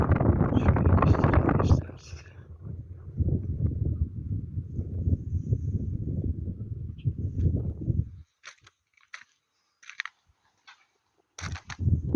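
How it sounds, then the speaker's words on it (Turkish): Wind buffets the microphone in a deep, roaring rumble for several seconds, then drops away, leaving scattered faint clicks. "Rüzgarın sesini hissediyorsunuzdur."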